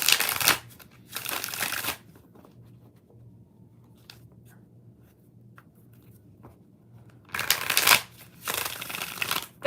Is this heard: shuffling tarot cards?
yes